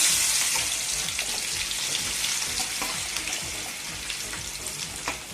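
Sliced onions frying in hot oil in a pot for Muslim-style dum biryani, a steady close hiss and crackle with occasional stirring clinks, no talking over it.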